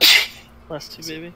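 A loud sneeze bursts out at the start during a tabletop Dungeons & Dragons session, followed by a short stretch of quiet and then people speaking.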